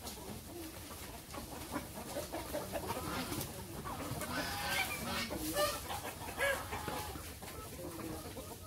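Chickens cluck steadily on a farm where free-range native crossbred hens and ducks are kept, several birds calling close by in a continuous busy chorus with no talk.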